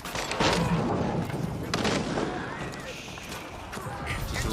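A demolition ship explodes in a video game battle, a loud booming crash with rapid crackling bursts amid busy game noise, with a voice talking over it.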